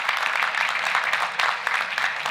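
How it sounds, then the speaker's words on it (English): Audience clapping at a high school fall sports awards dinner, a steady wash of many hands applauding throughout, moderately loud and continuous with no speech over it. "You clap for yourself."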